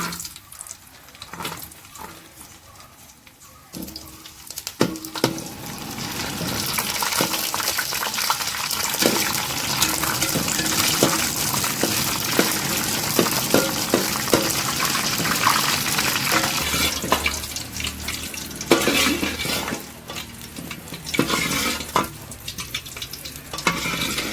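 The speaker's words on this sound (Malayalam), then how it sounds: "നെയ്യ് റെഡിയായിട്ടുണ്ട് ഇതിലേക്ക് കിസ്മിസ് ചേർത്ത് കൊടുക്കാം" Continuous loud sizzling of raisins frying in hot ghee, with stirring clinks and scrapes scattered throughout; no voices.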